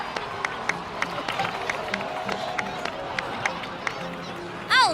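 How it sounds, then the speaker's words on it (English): Game crowd in Genshin Impact applauding and cheering at a Natlan victory celebration, a steady wash of many hands clapping with scattered sharp claps, mid-distance and moderately loud, with a rising chime effect at the very end. "please give another round of applause for them"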